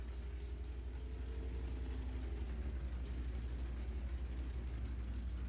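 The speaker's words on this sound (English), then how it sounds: "We can hear his engines" Heavy tank engines in a video game rumble in a steady, low, continuous drone, fairly quiet and unchanging throughout.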